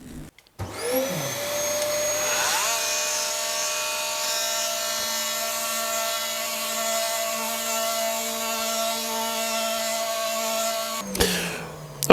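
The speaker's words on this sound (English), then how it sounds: "a 240 grit sandpaper here on my multi-tool, and it's going to be very noisy and dusty" A multi-tool fitted with 240 grit sandpaper sands a slate surface, giving a loud, steady buzzing whine that holds almost unchanged for about ten seconds before cutting off.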